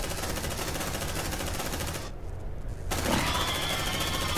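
Sustained rapid automatic gunfire from the video game Aliens Dark Descent, a dense rattling burst that cuts out for under a second, then resumes with a faint high whine layered on top.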